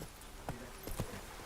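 Faint horse hooves clop in the fantasy video game Witcher 3: Wild Hunt. A few soft, evenly spaced hoofbeats sit over quiet background ambience.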